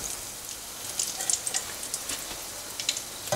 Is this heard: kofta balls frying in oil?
yes